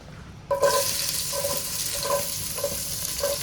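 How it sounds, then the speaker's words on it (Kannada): Onions frying in a pan for crab ghee roast give a steady close sizzle that starts abruptly after a short pause and runs on, with faint periodic stirring clinks and no voices. "ಈಗ ನೀರುಳ್ಳಿ ಸ್ವಲ್ಪ ಬ್ರೌನ್ ಕಲರ್ ಬರೋದಂತ ಫ್ರೈ ಮಾಡಬೇಕು"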